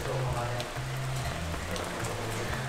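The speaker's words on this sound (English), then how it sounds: "Yeah, really hard rain." Hard rain pours down steadily in a jungle park, a dense continuous wash of drops on surfaces with a low droning hum beneath, loud and close throughout.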